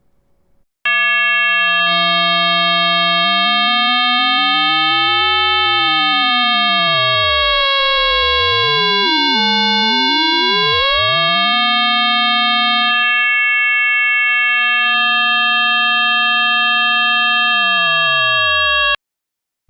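A sustained FM synthesizer tone from one held key, its sideband partials gliding, splitting and crossing as the modulator spacing shifts, alone and steady in loudness for about eighteen seconds.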